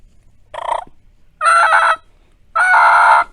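A beginner blowing a mouth diaphragm turkey call for the first time, producing three harsh, strained squawks that grow longer and louder, close and alone with no talking.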